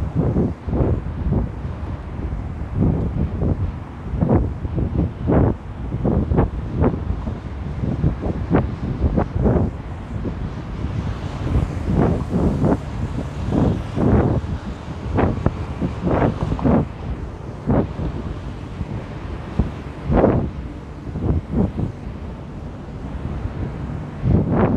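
Gusty wind buffets the microphone outdoors on a breezy day, a steady rushing roar broken by repeated thumping gusts throughout, with no talk.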